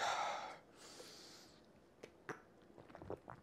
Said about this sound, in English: hear that breathing? It's me making my body work.